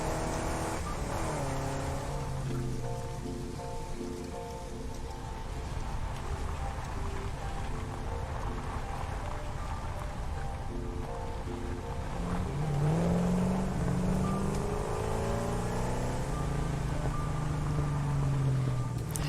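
A car engine in the video game Satisfactory drives and drifts continuously, its steady motor drone rising in pitch as it accelerates, with music playing alongside throughout.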